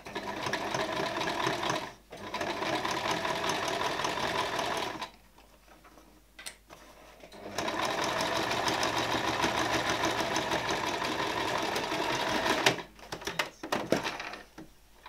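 A sewing machine stitches slowly around the corner of a shirt sleeve through thick layers of fabric. Its close, steady whirring motor runs in long stretches broken by brief pauses, with no talking.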